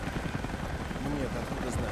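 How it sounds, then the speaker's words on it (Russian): A helicopter in the video game Rise of the Tomb Raider gives off a steady, dense rotor drone with a low rumble. Voices talk over it throughout. "Это вертолет Константина."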